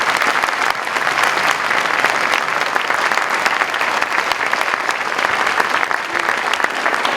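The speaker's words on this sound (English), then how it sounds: "Let's give the Stormy Strings another round of applause over there" Audience at an elementary school orchestra concert applauds steadily for several seconds, a dense, sustained wash of many hands clapping from a sizable crowd with no speech over it.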